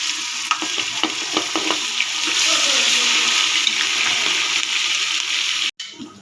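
Garlic ginger paste hits hot oil with cumin in a pan for chana pulao, a loud, close, continuous sizzle and crackle that swells after a couple of seconds and cuts off abruptly near the end.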